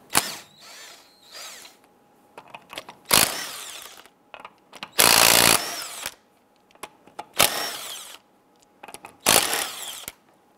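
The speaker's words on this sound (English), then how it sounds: "we're going to loosen and remove the lug nuts." Power tool with a 19 millimeter socket loosening lug nuts on a 1995–2001 Ford Explorer front wheel, several loud, brief impact-driver bursts separated by quieter pauses and clinks of handling.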